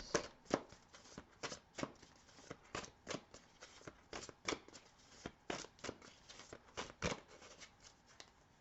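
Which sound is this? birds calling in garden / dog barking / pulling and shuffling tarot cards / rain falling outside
pulling and shuffling tarot cards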